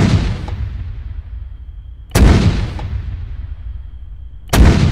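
Artillery rounds firing in a military video game, three heavy booming shots spaced about two seconds apart, each with a sharp attack and a long rumbling decay, loud and close with no talk over them.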